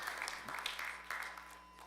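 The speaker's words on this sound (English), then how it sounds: "If you want to clap, clap properly too." Scattered audience clapping during a Wednesday church service in a sanctuary, several uneven bursts of hands over a brief moment, moderately faint.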